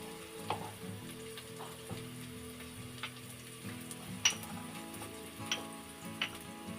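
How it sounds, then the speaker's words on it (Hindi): Spices and garlic sizzling and frying in hot oil for tempering kadhi, a quiet continuous crackle with occasional sharp pops and a few soft stirring clinks. "अब मैं छोंक रही हूँ कढ़ी।"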